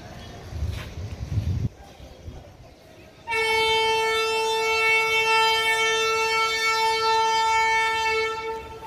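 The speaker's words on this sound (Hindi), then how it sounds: "ट्रेन की सीटी बजने के साथ ही मैं कोच में चढ़ गया।" An Indian express train, the 12494 Darshan Express, sounds its whistle at a station. A few seconds of quiet platform ambience give way to a loud, steady, drawn-out horn blast that holds for about five seconds.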